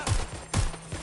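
Gunfire in Watch Dogs: Legion comes as two sharp, close, punchy shots about half a second apart, followed by a softer third report.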